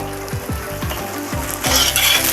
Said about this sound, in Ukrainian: Капуста смажиться просто миттєво, тому працюємо на середньому вогні